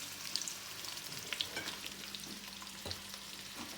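Chopped onion frying in hot oil in a pan for an aloo gobi dish, a steady soft crackling sizzle with a few brief stirring clicks, close by and fairly quiet, with no talking.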